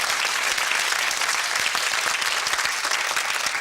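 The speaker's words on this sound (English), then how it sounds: "Round of applause for the 6." A studio audience on a UK television quiz show claps in a thick, continuous burst, evenly loud throughout with no talk over it.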